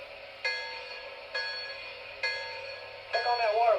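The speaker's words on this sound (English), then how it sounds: "Here's the bell." A model bell on an MTH Premier PRR K4 steam locomotive strikes four times at a slow steady pace, each clang ringing briefly over a constant electronic hum, fairly close and moderately loud.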